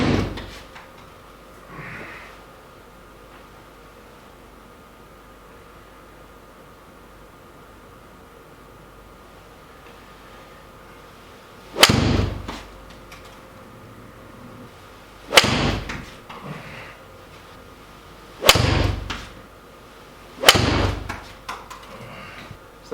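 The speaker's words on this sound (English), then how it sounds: "we're going to be using Pro V1s and just hit 4 or 5 shots" Golf shots struck with Ping 1530 irons and Pro V1 balls, four sharp impacts spaced a few seconds apart after a quiet stretch, close and crisp with no talk.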